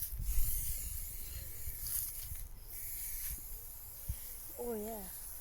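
A spray paint can hisses through a stencil in short, soft bursts during an art class, while people talk nearby.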